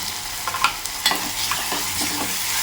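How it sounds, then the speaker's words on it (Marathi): Chopped onion sautéing in hot oil in a home kitchen while being stirred, a soft steady sizzle with brief scraping spoon clicks, close and alone with no voices. "कांदा मी घेतलाय, हा थोडा आपण परतून घेऊया तेलामध्ये."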